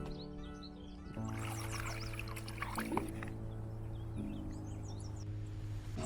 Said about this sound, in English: we're gonna fill up our solar shower